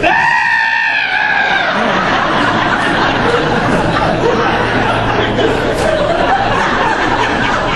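A man performs a loud, sustained high-pitched scream imitating his own yell on the Cyclone roller coaster during a sharp dive, continuous and close for several seconds with shrill wavering tones.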